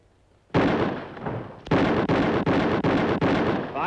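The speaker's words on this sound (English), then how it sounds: "Drawing fire. 5 shots, 5 seconds." A rifle fires a rapid string of sharp, loud, close shots at a shooting contest, one blast followed by a quick evenly paced volley with short echoing tails.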